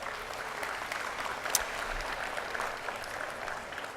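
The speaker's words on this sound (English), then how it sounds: "a round of applause for Parkhurst Food Service" Audience applause for the food service staff at a college commencement ceremony, a steady, fairly quiet wash of clapping from a large crowd that holds evenly throughout.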